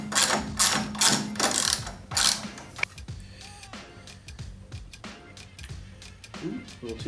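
Ratcheting and threading a nut onto a Ridetech suspension part on a classic car, a close run of quick mechanical clicks in bursts, then slower scattered clicks and metallic taps.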